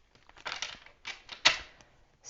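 Tarot cards are shuffled by hand in several quick crisp bursts of papery riffling and tapping, close and clear with short pauses between.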